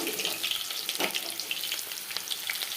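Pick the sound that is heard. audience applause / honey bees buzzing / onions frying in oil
onions frying in oil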